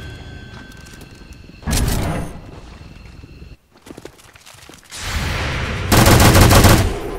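Overwatch gunfire in XCOM 2, loud bursts of shots cutting through quiet ambient game sound, first one short volley, then a longer, heavier barrage after a brief silence.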